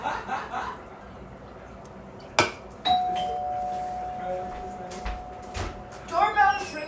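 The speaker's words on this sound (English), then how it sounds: "Doorbell is ringing like crazy." A doorbell rings with a sustained electronic tone lasting a few seconds, followed by chiming notes, amid room noise and a couple of sharp knocks.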